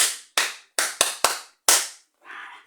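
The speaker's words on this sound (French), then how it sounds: "Applaudissez très fort pour monsieur Atangana." At a spirited event, six punchy, reverberant claps land in a loose, uneven pattern, followed by a short burst of softer, hissing noise.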